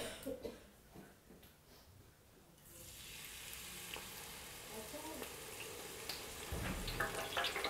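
Chips dropped into hot oil in a training kitchen for chips making, a quiet start then a steady, close sizzle and bubbling of frying that rises and stays continuous, with some faint background talk.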